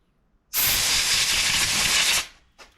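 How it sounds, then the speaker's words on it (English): Compressed air blasts out of a boat trailer roller as one loud, steady hiss lasting nearly two seconds, then cuts off sharply, with a short faint puff afterward. "Use compressed air to blow it all out of there."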